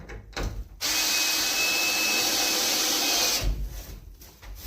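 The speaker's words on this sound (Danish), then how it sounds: "det er en rigtig god idé at sætte skruerne i brædet, inden man skruer det på" A power drill drives screws into a wooden board for a goat gate, one sustained whirring burst of about three seconds with quieter handling noises before and after.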